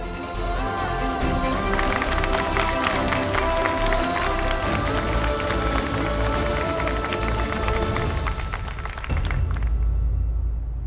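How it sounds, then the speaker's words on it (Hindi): Loud, sustained applause and cheering from a crowd at a live show, with dense clapping that stays steady for about nine seconds before cutting off, followed by a brief louder burst. "a huge round of applause for you"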